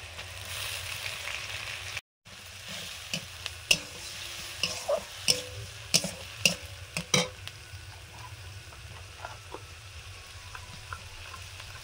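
Whole garam masala, chopped onion and turmeric frying in a pan, a steady sizzle with a series of crisp scraping stirs and small pops, moderately close and without talk.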